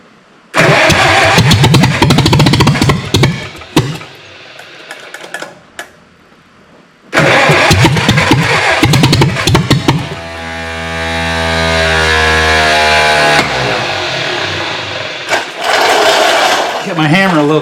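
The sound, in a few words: Project R car engine starting up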